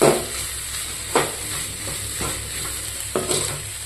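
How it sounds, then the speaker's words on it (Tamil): Onions for a spicy chicken gravy sauté in a pan with a steady sizzle, broken by three or four scraping stirs of a spoon, close and without talk. "ஆனியன் நல்லா வதங்கிட்டு இருக்கு"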